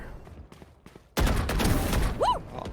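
A single loud in-game gunshot bursts out after a quiet stretch, with a ringing tail that lingers, while a player talks faintly in the background of a first-person shooter.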